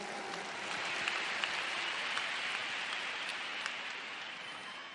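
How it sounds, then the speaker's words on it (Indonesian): Large crowd applauding at an outdoor political campaign rally in a packed stadium, a dense, steady wash of distant clapping that holds for several seconds with no voice over it. "Tepuk tangan untuk semua yang memilih hadir di sini."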